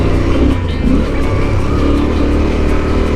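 Several vehicles roll past on a gravel road in Montenegro, a steady loud engine drone with crunching tyres filling the whole stretch, close by and without talk.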